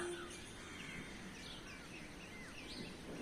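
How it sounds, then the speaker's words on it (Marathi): Several birds chirp and whistle in the distance, their varied calls rising faintly over a quiet outdoor background. "पक्ष्यांचे आवाज येत आहेत वेगवेगळे पक्षी"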